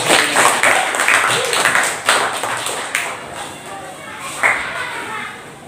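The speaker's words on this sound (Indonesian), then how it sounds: "tepuk tangan untuk kalian" Children in an elementary school classroom clap together in a burst of applause, the rapid claps loud and close with a few sharper accents, while voices chatter underneath.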